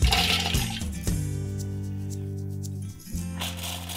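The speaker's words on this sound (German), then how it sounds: "Für unser kerniges Brot zerkleinere ich als erstes die Nüsse" A Thermomix chops nuts for a seedy low-carb bread, its motor whirring loudly with a steady droning hum and clattering grind that surges at the start and again near the end.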